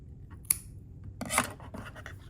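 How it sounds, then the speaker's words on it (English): A pair of scissors snips yarn while finishing a small crochet bag charm: one sharp close click, then a short rasping cut and a few soft rustles, with no talking. "Cut your yarn"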